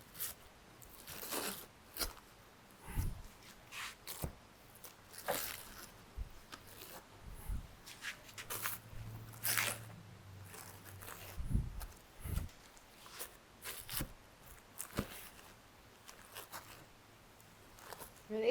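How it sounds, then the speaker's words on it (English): A baked Safeway ready-made dough pizza is cut into pieces, heard as irregular crunchy crust cuts and knocks, close but fairly quiet, spread across the stretch with short pauses. "now we're going to cut and do the taste"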